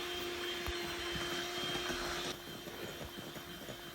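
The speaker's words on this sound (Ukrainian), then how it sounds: "яйця вбити в миску, дрібку солі, цукор і збиваємо яйця сіллю із цукром" Eggs beaten with a pinch of salt and sugar for apple pie, a steady electric mixer whir with light clatter in the bowl that drops in pitch and level partway through, close by with no talk.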